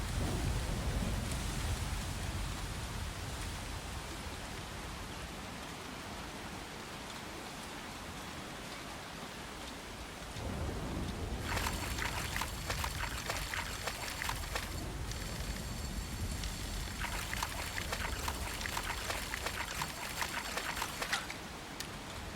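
Steady rain falls throughout in the game Coral Island, with a deep thunder rumble early on and heavier downpour bursts in the second half.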